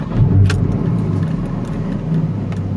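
Porsche 911 with a newly fitted sport exhaust, heard at close range, a key jingling briefly in the ignition before a loud, deep engine rumble settles into a steady idle.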